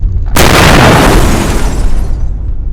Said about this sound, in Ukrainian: під капотом стріляє